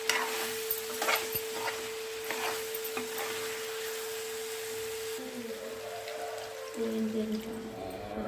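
Chicken curry with Everest masala powder being stirred in a pan, a spoon scraping and mixing with a soft moist sizzle, steady and close, with a low hum underneath and no talking.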